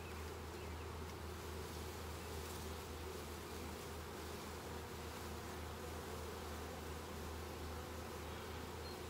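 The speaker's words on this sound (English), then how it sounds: "They're fanning a gland that tells the other bees that same thing." A dense, steady hum of a honeybee swarm fanning, many bees buzzing together, continuous and even throughout, with no voices.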